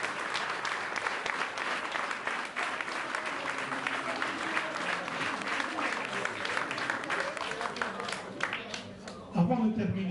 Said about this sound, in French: Alors si vous pouvez les applaudir, les bénévoles